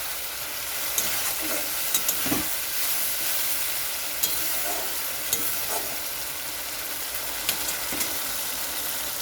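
Boiled potatoes sautéing in a pan for a potato rasa with papad, a steady close sizzle and fry hiss with several scraping stirs of a spatula at irregular intervals, no talking.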